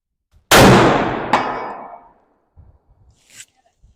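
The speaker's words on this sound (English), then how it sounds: "let's go ahead and crack off this first round and see where we're at" A single loud .300 PRC rifle shot from a Begara B14 HMR at a shooting range, a sharp close blast with a long decaying tail, a faint distant impact clang following, then quiet.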